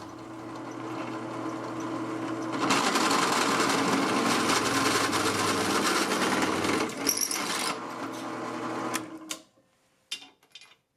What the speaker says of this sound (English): The drill press vise is loose enough so the bit will find center in the hole, but snug enough to hold it securely while drilling.